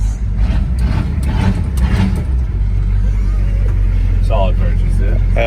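A CUCV square body truck engine revs hard up close with loud low rumble, while people talk excitedly over it.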